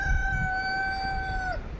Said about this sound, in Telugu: రాగానే ఊర్లో కోడి కూసిందనమాట